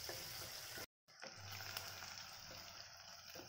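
Green chillies fry in a clay pot for village-style pot chicken, giving a steady close sizzle with a brief dropout partway through and no talking.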